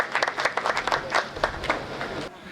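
Applause at a Hindi kavi sammelan poetry gathering: a lively crowd claps in dense, even rhythm for a couple of seconds, then the clapping thins out as it fades.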